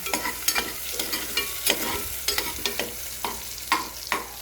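Onion and chili sauté in a hot pan, a constant sizzle broken by regular scraping stir strokes about twice a second, close up, no voices.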